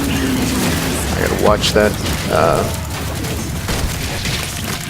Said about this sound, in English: All of a sudden the little minions start exploding.